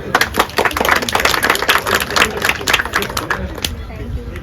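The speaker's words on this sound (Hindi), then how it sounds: "ताली हो जाए।" Audience applause at an anniversary function, a dense burst of many hands clapping close and loud, easing off toward the end, with crowd murmur underneath.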